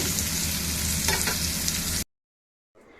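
Papaya or drumstick pieces fry and sizzle in a pan, a steady loud crackle with a brief stirring scrape partway through, then cutting off suddenly into silence before a faint return of sound.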